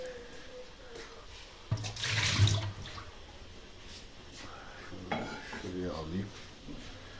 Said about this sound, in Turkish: Şu fazla suyumu dökeyim.